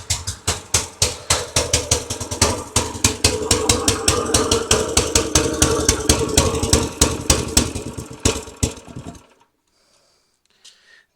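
An old log splitter engine, running lean, chugs in a fast, slightly uneven run of loud pulses nearby, then shuts off, leaving a few faint ticks.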